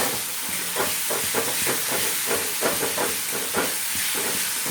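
Masala spices and tomato frying in hot oil, a close, steady sizzle and hiss with soft stirring scrapes, without any voices.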